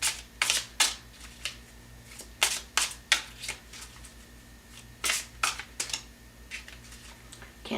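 A deck of tarot cards being shuffled close up, with sharp bursts of riffling and flicking cards in irregular clusters over a quiet background hum.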